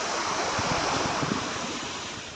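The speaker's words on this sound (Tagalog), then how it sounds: "Yan, maalon." Sea waves roll and break steadily on a beach under an overcast sky, a broad continuous wash of surf with some wind noise on the microphone, fairly loud and close throughout.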